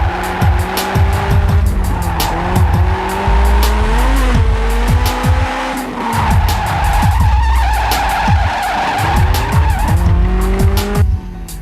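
Car drifting on Ebisu Circuit in Japan, engine revving hard and wavering in pitch while tires squeal in long sustained bursts, loud and close throughout with no talk.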